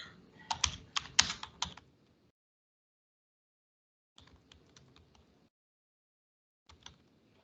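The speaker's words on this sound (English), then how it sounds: "So I'll just type in pack" Close, crisp computer keyboard typing comes in a quick burst of keystrokes, then silence, then a lighter second run of keys and a few final taps as a command is entered.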